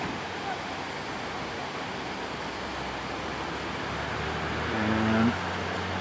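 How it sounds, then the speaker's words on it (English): River near Tuasan Falls on Camiguin flowing as a faint, steady broadband rush in the background, with a brief louder swell near the end and a voice speaking over it. "that's the river"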